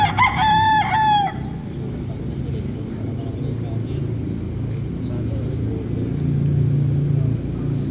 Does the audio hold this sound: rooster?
yes